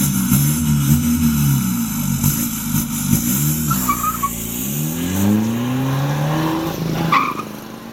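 A VW Polo 1.5 TDI diesel with a full aeroturbine exhaust in stage 2 form, before remapping, revving up and down repeatedly in close, loud rising and falling sweeps with a gruff, droning exhaust tone.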